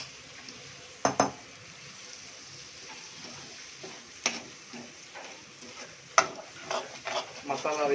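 Dry fish thokku masala sautéed and stirred in a pan, with a soft steady sizzle broken by sharp spatula scrapes and clinks at irregular intervals, close and fairly quiet, with no talking.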